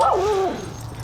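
At a large dog park, a single dog lets out a short high whine or yip that slides downward in pitch, close and clear, fading quickly into quiet background.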